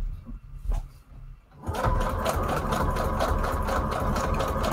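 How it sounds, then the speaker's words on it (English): Sewing machine running a zigzag stitch on a scrap embellishment: after a quiet moment with a few faint handling noises, the motor starts and hums steadily close by with a fast, even mechanical pulse. "I'm going to zigzag stitch all the way around this."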